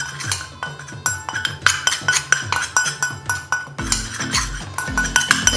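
Nail polish colourants stirred in a small container, giving a quick series of light clinks and taps in a steady rhythm, close and clear, pausing briefly before the stirring picks up again.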